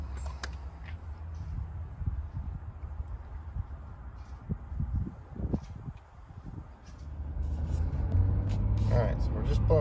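A 2020 Ford F-250 Platinum 4x4 pickup with a 10-speed transmission pulls out of a dealership, its low engine rumble steady throughout and building louder toward the end, with people talking over it.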